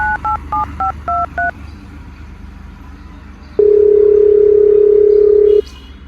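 A quick run of six telephone keypad dialing tones, followed after a pause by a long steady dial tone, all loud and close with no talking.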